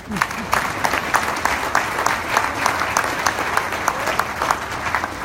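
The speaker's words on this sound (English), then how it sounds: "You can give them a round of applause." Crowd applause at a high school football team's Division I state championship recognition event, steady dense clapping with bright individual claps standing out, sustained throughout at moderate loudness with faint cheering underneath.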